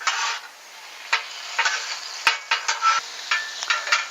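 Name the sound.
beef stir fry sizzling with soy sauce on a flat-top grill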